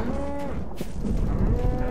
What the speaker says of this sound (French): Ah, des vaches, des vaches